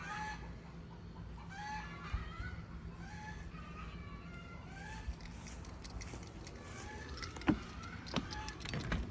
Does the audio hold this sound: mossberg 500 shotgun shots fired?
no